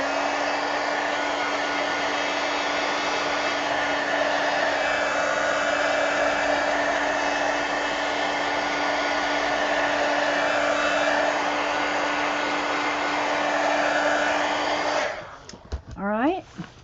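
A hair dryer dries a glued page of an adult coloring book, blowing as a steady loud whine close by for about fifteen seconds before it is switched off and a few clicks and handling noises follow.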